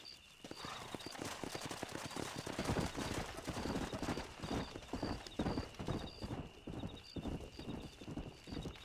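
Rapid, rhythmic clip-clop of horse hooves galloping in the video game Red Dead Redemption, with a horse neighing near the start and a steady electronic tone in the background.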